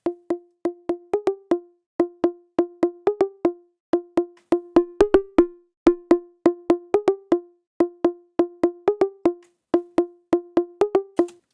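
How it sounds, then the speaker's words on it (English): Synth sequence played through a driven MS-20-style filter for underground house and techno: a steady, repeating pattern of punchy, resonant plucked notes with a gritty edge, looping rhythmically and heard alone. "adding some filter drive,"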